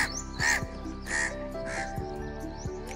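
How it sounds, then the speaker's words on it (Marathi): A crow caws several times over a rice field, fairly close, with harsh repeated calls standing out against quiet outdoor background. "कावळा आला. भात पडलेला खायला येतात."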